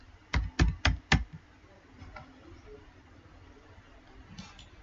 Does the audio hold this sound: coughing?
no